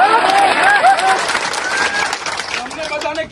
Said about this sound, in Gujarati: તાળીઓ, તમારી તાળીઓ સાંભળવા હું નથી આવ્યો આટલી દૂરથી.